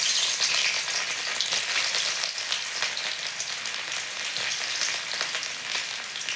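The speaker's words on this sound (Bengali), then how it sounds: "তেলটা গরম হয়ে গেছে, দিয়ে দিচ্ছি আদা আর রসুন কুচি।" Chopped ginger and garlic sizzling in hot oil while making egg vegetable chowmein, a continuous bright crackling hiss at moderate, even loudness with no talk.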